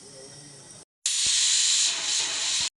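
A pressure cooker whistle lets out a loud, steady hiss of escaping steam at close range. It follows a quieter stretch and a short silent gap, then holds for about two seconds before stopping abruptly.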